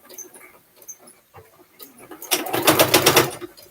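A sewing machine stitches close along the edge of a fabric scrap pouch, a fast even run of needle strokes arriving after quieter handling noises, fairly close and alone.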